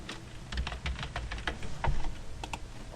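Rapid clicking of a computer keyboard while C# code for a Unity 3D main menu is copied, pasted and deleted, close irregular bursts of keystrokes with no talk.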